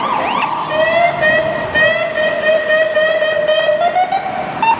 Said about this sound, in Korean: 사이렌 소리가.